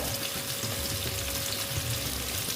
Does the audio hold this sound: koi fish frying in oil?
yes